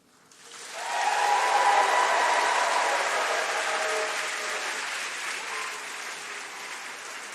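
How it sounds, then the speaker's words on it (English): A large audience at a university medicine and health degree ceremony bursts into applause and cheering, swelling within the first second and then sustaining a thick, even roar of clapping that slowly eases. "I want to start with a big round of applause, and let's get the cheering going for the ceremony"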